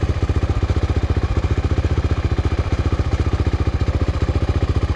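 A big dirt bike engine chugs at a steady idle with a deep, rapid, evenly pulsing thump, loud and close, with no talking over it.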